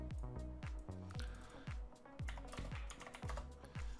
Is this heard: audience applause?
no